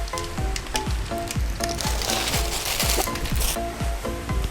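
Mustard seeds sizzle and pop in hot sesame oil while grape pickle is being cooked, a steady crackle broken by rapid, regular close-up spits.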